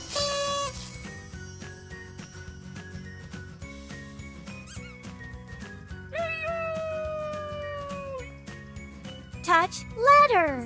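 A cat meows in a children's phonics alphabet song, a few drawn-out falling meows near the middle and end, set over light jingling music and other small cartoon sound effects.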